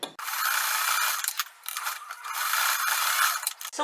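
A sewing machine runs a straight stitch along the folded hem of a strap, a close, fast mechanical whirring that keeps going with a couple of brief pauses between bursts.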